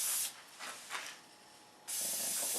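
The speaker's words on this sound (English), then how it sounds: "Brake clean is good. Cools it down." Brake cleaner sprayed onto a hot metal part of an NP231 transfer case tail shaft, close and loud: a steady aerosol hiss opens the clip, a few short squirts follow, then another long continuous spray.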